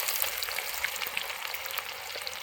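Onions sizzling in hot oil in a pan on a home stove, a steady soft crackle with scattered pops, fairly faint and without voices.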